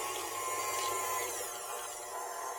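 Stand mixer creaming double chocolate cookie dough, a steady whirring motor hum with a faint rubbing churn, continuous and close throughout with no talking.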